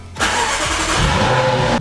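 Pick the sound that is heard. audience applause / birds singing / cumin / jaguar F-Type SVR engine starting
jaguar F-Type SVR engine starting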